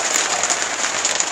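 Heavy rain mixed with hail drums steadily on a shed in May, a dense, loud, close patter with no talking over it.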